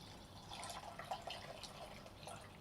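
Juice for homemade ice gola is poured into a plastic container, a faint trickling, dripping liquid sound that is soft and close with no talking.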